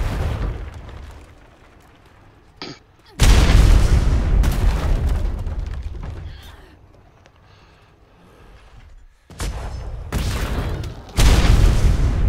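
Explosions destroying a forward operating base in the game Atlas: several heavy booming blasts with deep rumbling tails, separated by quieter gaps, loud and close, with no talk.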